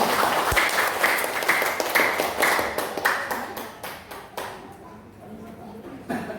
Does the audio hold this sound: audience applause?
yes